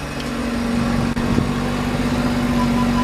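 Mazda RX7 FD rotary engine idling with a steady low hum, slightly raised revs, recorded close and continuous with a brief small dip partway.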